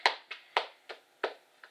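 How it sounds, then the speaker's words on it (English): About six separate hand claps, quiet and close, spaced unevenly over under two seconds, with no talking. "so let's give him a round of applause."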